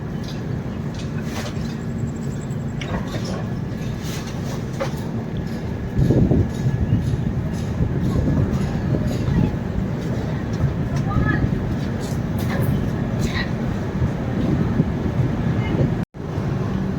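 The Howrah Puri Shatabdi Express rumbles through Cuttack Junction with a steady rolling roar and wind buffeting, heard from on board, with a voice talking over it and a brief sharp cut near the end.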